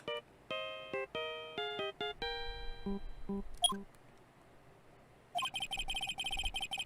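A cell phone ringtone playing the Steel Samurai theme from the Phoenix Wright: Ace Attorney game, bright electronic beeping melody notes in a quick tune, then a brief pause before a dense, buzzy ringing burst resumes.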